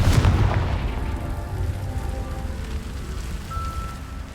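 A Confringo blasting curse in the Hogwarts Legacy video game bursts loudly at the start, then fades into a long, crackling rumble that tails off over several seconds.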